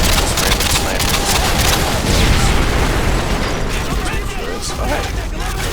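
Dense, loud battlefield noise in Call of Duty Modern Warfare 2 on Xbox 360, with sniper gunfire and pops and booms blending into a constant roar, and a voice talking over it.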